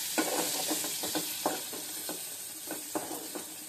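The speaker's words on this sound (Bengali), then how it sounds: "জিরা ফোড়ন দিয়েছি" Cumin seeds crackling in hot oil for a vegetarian potato and cucumber curry, a steady faint sizzle broken by repeated soft utensil stirs, close and without voices.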